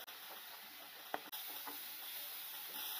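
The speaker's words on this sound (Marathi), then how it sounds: "तेल गरम झालं की यामध्ये आपण हा जो कांद्याचा मसाला वाटला होता तो घालायचा आहे." Onion masala sizzles steadily in hot oil in a pan for a Marathi-style ragda pattice recipe, a soft continuous hiss with a stir or two, heard close and alone.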